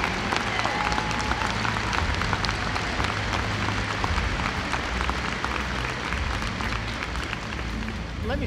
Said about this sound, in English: Let's give those teams a round of applause as well.